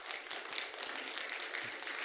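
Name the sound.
church congregation applauding new pianist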